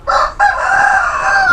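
A breeding rooster crows nearby, one loud, drawn-out call with a brief break near the start, heard up close with faint farmyard background.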